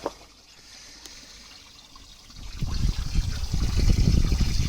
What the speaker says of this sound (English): water change done, pond filling back up